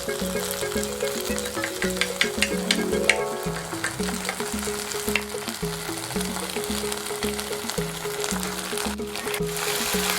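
Baby corn Manchurian sautés in a pan with tomato ketchup and soy sauce, giving a loud, steady sizzle broken up by repeated stirring and scraping strokes from start to finish.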